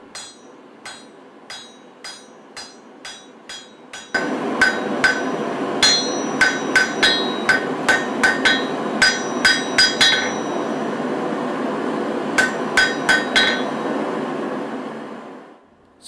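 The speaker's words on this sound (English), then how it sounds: "Now I'll hot cut the blank to form the point." Hammer blows hot-cut a Damascus steel blank for a Japanese carving knife, ringing sharp and close: a steady series of single strikes, then quicker, denser blows over a constant roaring background hum, ending as the noise fades.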